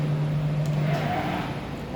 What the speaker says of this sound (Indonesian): Nah, saya kembalikan dulu mesin ke titik nol.